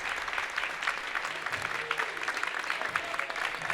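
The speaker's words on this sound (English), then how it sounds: "Malkin getting a standing ovation from the crowd as she heads back to the Red Wing bench" Sustained applause and cheering from a crowd at a women's basketball game on senior night, a steady dense roar of clapping filling the gym throughout.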